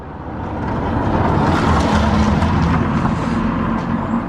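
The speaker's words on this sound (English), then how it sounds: "loud car ruining the shot" A loud car rumbles past, its engine roar rising to a peak mid-way and easing off again, heavy and fairly close, with no talking over it.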